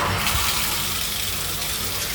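Hot water gushes steadily from a tap into a bathtub, a loud continuous rushing pour with no talk over it.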